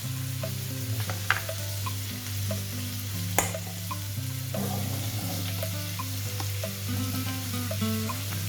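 Goat kidneys fry with garlic in a pan, giving a constant close sizzle with stirring scrapes and a couple of sharp clanks of a utensil on the pan.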